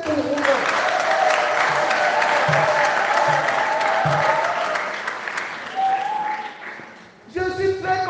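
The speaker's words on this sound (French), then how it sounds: "Applaudissez pour vous-même." A church congregation applauds at a parish gathering. The clapping is a dense, sustained wash that thins out near the end, with tonal voices mixed in, before a brief different sound closes the clip.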